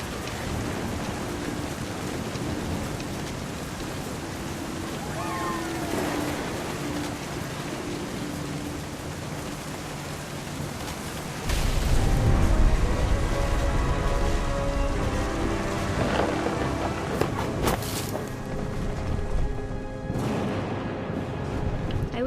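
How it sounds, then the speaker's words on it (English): Storm ambience in What Remains of Edith Finch: a steady hiss of rain throughout, with a louder rumble of close thunder breaking in partway and lingering as the downpour continues. "The thunder sounded much too close and full of angry power."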